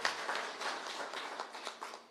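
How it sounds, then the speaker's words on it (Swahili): A crowd applauds the president at a county public forum in Kakamega, the clapping a dense, steady patter that swells in small bursts, then fades slightly at the end. "Wapi makofi ya rais pale?"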